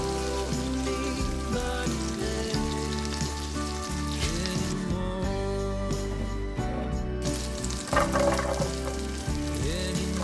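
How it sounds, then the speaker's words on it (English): Carrots sauté in butter and vegetable oil, giving a continuous crackling sizzle with occasional stirring, largely masked by louder music playing throughout. "Sauté the carrots."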